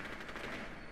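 Rapid automatic gunfire in a video game, a quick run of shots packed into about a second, steady and fairly loud with no voices.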